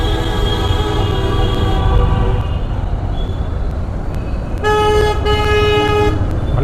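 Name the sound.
heavy road traffic with car horns honking in Coimbatore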